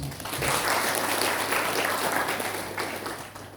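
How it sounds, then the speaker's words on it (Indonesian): Audience applause in an Indonesian university hall, a short burst of full clapping that swells then tapers over a few seconds with a low hum underneath. "Tepuk tangan untuk Anda semua."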